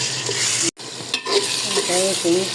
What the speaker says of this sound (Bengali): আদা রসুন সুন্দর করে ভেজে নিয়েছি